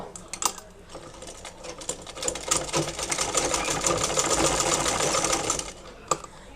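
A sewing machine runs in a steady fast stitching burr while sewing a khimar hijab, preceded by a few clicks and ending with a sharp tap.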